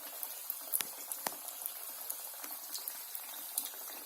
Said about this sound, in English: You can see it's nicely being fried.